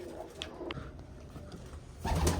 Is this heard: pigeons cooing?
yes